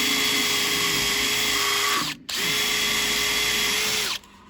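A power drill from a multi-bit drill and screwdriver set bores slowly through material, a loud, close, steady whine that runs for about two seconds, dips briefly, then resumes before stopping.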